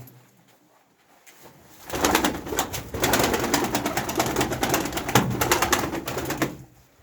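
A pigeon coos repeatedly in a soft, throaty rhythm, close by, after a quiet opening moment.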